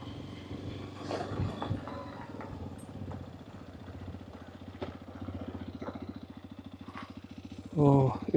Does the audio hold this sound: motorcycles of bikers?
yes